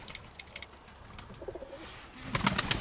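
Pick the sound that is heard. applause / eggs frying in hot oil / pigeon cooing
pigeon cooing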